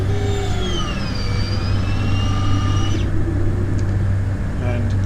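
An aircraft in a flight simulator game climbs out after takeoff on a summer morning, its engine a loud, steady drone whose tones slowly bend in pitch before one drops away.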